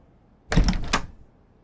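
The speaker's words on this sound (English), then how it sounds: "Someone's knocking at the door." Knocking at a door in the video game The Flower Collectors, three quick heavy thuds close together, near and fairly loud against a quiet background.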